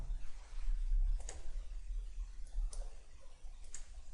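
A computer mouse clicks four times at a desk while navigating views in Inventor CAD software, sharp and close over a steady low hum, with no talking.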